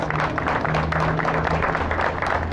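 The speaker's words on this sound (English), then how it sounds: "Please give her another round of applause." An audience at an outdoor fountain dedication ceremony in Seneca Falls, New York, applauds in a dense, sustained patter of many hands clapping, fairly close and even, with faint voices mixed in.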